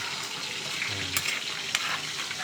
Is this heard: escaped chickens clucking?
no